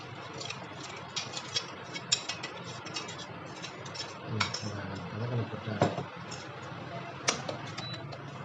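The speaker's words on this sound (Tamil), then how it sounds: "இப்போ அந்த மசாலாவை போட்டு நம்ம வதக்க போகிறோம்." Masala stirred and fried in a pan for a cauliflower and pea curry, giving soft scraping and clinking of a spoon against metal, with a few sharper taps and a low sizzling hiss underneath, fairly quiet and close.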